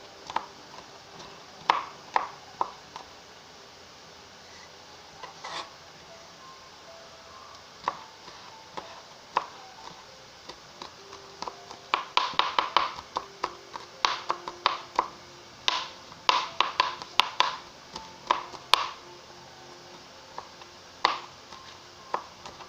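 Garlic chopped with a knife in an outdoor jungle kitchen while making a vegan Caribbean soup: close, irregular sharp taps on a board, sparse at first and then in quick rapid bursts, no talk.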